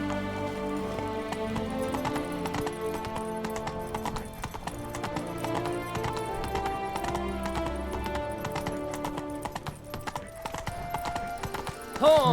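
Roach, the horse in The Witcher 3 video game, gallops with quick, steady hoof clip-clops and a brief whinny, set against a music score.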